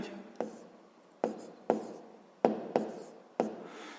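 A pen writes numbers for a sixth-grade math exercise, making about six quiet, sharp tap-and-scratch strokes at uneven intervals over a faint room hiss, with no talk.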